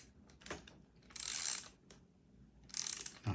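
A bolt is tightened with a ratcheting tool during assembly of the Proses Smart Eco Helix, making a few short bursts of quick clicking, close and crisp, separated by quiet pauses.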